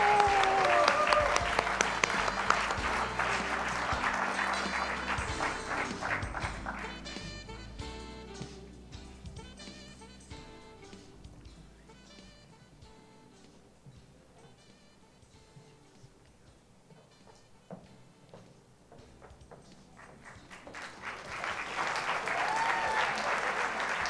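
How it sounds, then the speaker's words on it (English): Audience applause at the Innovation In Education Awards in San Diego, loud at first, thinning to scattered claps in the middle, then swelling again toward the end. "Let's give them a huge round of applause."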